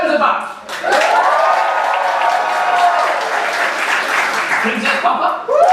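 A theatre audience applauds to vote for the Roosevelt pairing in a musical, a dense, steady wash of clapping that swells in and holds loud for several seconds, with a voice rising near the end.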